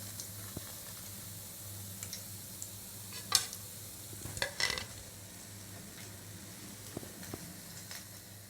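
Gram flour bondas fry in hot oil with a soft, steady sizzle and hiss. A few brief clinks of a stirring utensil stand out, all fairly faint and close.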